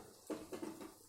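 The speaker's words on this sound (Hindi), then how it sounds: "इस पानी में हमने चम्मच को डुबोया" A metal spoon is dipped into a bowl of water before scooping dahi vada batter, giving a few soft, quiet clinks and light splashes in a kitchen.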